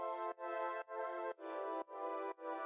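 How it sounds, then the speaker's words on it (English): A soft synth pad from the Calm Down preset of the State Machine Slow Drift plugin plays sustained, bright chords in a pulsing rhythm, re-struck about every half second for several bars, with no voices. "This is just the Calm Down preset out of State Machine Slow Drift."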